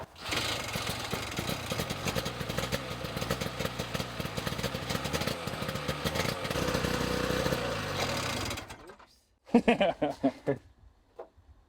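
A snowmobile engine runs loud and close just after a cold start, with a steady, choppy idle that cuts off abruptly near the end, followed by brief voices.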